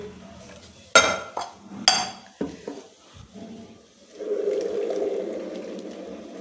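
Dishes being washed and scrubbed in water at home, two sharp metallic clanks of pots, then softer knocks and a steady running-water rush toward the end.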